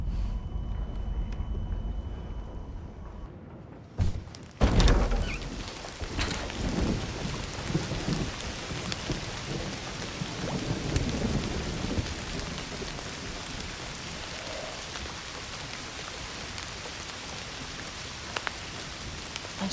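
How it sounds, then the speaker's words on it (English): Video game rain in Indiana Jones and the Great Circle hisses steadily throughout, with a sharp thunderclap crashing in near the middle and low rumbles rolling on afterward. "Don't you love rain?"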